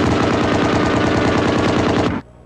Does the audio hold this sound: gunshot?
yes